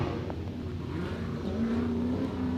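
A supercharged V8 Nissan S14 drift car on its sighting lap at a Texas qualifying event roars steadily, its engine note rising into a sustained high rev, loud and continuous without speech.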